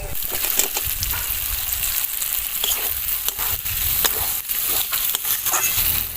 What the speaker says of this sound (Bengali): মশলার মধ্যে এবার আমি ভেজে রাখা আমগুলো সব দিয়ে দেবো।